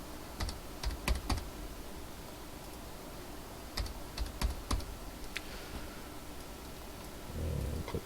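Someone types a password on a computer keyboard while setting up an OpenWRT router: short bursts of crisp key clicks with pauses between them, close and fairly quiet, with no talking.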